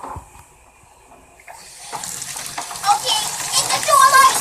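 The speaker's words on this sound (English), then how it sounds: "Start the water." Water begins gushing and splashing to flood a toy town, starting after a quiet stretch and growing louder and busier, with a voice audible over it.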